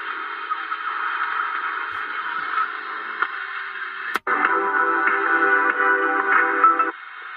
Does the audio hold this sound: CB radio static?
yes